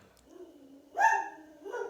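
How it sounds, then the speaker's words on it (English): A pet dog barks in a house as someone walks past outside with another dog, a couple of loud, close bark bursts standing out from a quieter indoor background. "Somebody's just walked past my house with their dog. And my dog's going crazy."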